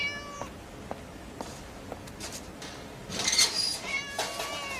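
A cat meows up close, one call at the start and a longer one near the end, with soft clicks and rustles between them.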